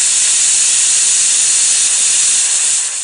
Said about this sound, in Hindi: अरे भाई, इस सीटी से नहीं बल्कि इस कुकर की सीटी से।